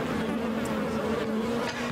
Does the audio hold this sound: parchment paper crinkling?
no